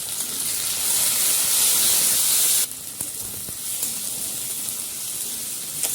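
Tomato added to a hot frying pan with onion for a cabbage dish, giving a loud bright sizzling hiss for a few seconds that drops abruptly to a quieter steady crackle.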